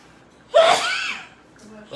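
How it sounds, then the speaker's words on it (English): One person sneezes once, a sharp close burst with a quick intake and voiced release that trails off into a short breathy tail, followed by quiet. "I'm gonna need another paper towel, please, sir, because I sneezed on that one"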